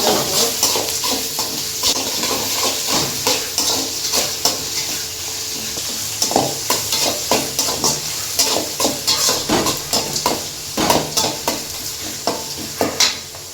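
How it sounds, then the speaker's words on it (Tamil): Sliced onions with salt sauté and sizzle in a pan for a bean poriyal, with a constant loud frying hiss and repeated scraping stirs that turn into rhythmic clicks of the spatula toward the end. "இப்போ பார்த்தீங்கன்னா வெங்காயம் நல்லா வதங்கிடுச்சு"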